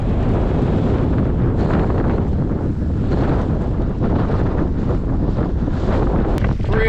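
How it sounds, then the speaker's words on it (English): Strong gusting wind at Virginia Lake near Mammoth Lakes buffets the microphone, a loud constant low roar and rumble with no letup. "crazy, crazy wind"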